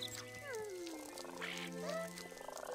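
A frog croaks in the video game Viva Piñata, a cartoonish, close, warbling croak with sliding pitch, heard alone over light game background sound.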